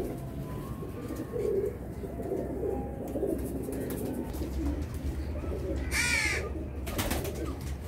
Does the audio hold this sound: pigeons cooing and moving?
yes